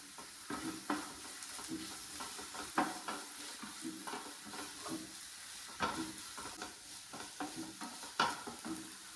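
Curry leaves and chopped green chillies stir-fry in a pan for masala dosa potato filling: a soft continuous sizzle broken by repeated stirring scrapes at an uneven rhythm, fairly quiet, with no one talking.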